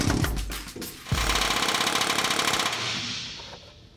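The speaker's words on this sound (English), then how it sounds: "Then an air chisel can easily remove the head, so the rivet can be driven from the frame." An air chisel knocking the head off a frame rivet on a 1974 Ford F100, a loud close rapid-fire metallic hammering that runs continuously after a couple of short bursts, then fades.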